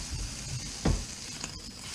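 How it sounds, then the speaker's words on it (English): Onions sizzle as they are frying on a glass top grill. A sharp hiss flares up partway through, then the sizzle sinks back to a steady, moderate crackle, with no talking. "Oh, now that you got the sizzle."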